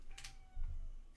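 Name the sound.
cat meowing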